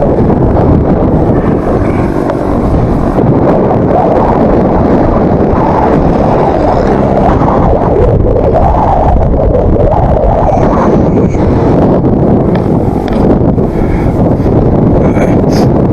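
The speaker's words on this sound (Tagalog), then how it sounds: "Medyo sobrang lakas po ng hangin" Loud, constant wind buffeting the microphone while cycling toward Siniloan, Laguna, a dense low rumble that roars steadily throughout with slight surges, no voices.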